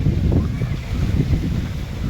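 Strong wind gusts outdoors among trees during a storm that has toppled a neem tree, buffeting close to the microphone in deep, rumbling surges.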